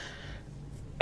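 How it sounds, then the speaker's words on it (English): A single sharp, loud cough bursts out right at the end after near silence, a man on a podcast coughing once, close to the microphone. "Okay, that time I had a cough."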